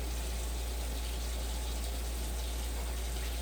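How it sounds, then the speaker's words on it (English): Water runs steadily from a tap into a chili meal pack, a constant close gushing with a low hum beneath it, and no one talking. "we can take our pack and we can fill it up with water"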